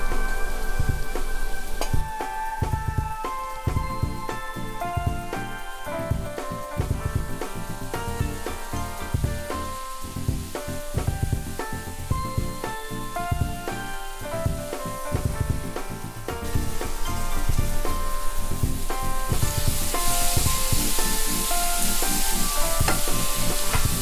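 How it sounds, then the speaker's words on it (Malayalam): Masala sizzles and fries in a pan for raisin pickle, a loud continuous crackle with repeated scraping stirs of the spoon throughout. "മസാല ആഡ് ചെയ്തതിന് ശേഷം ചെറുതായി ഒന്ന് വഴറ്റി കൊടുക്കണം, അതിൻ്റെ പച്ചമണം മാറുന്നത് വരെ."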